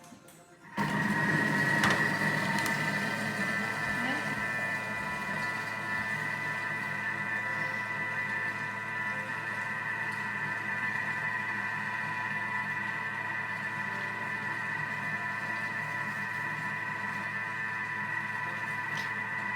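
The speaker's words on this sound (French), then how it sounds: "Et donc là on va mixer 20 secondes vitesse 4." A kitchen mixer starts up and runs steadily at speed 4 with cookie dough inside: an abrupt onset into a continuous motor whir and buzz with a faint whine that holds evenly to the end.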